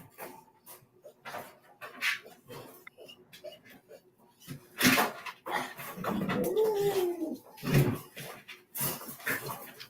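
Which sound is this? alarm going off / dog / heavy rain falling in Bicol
dog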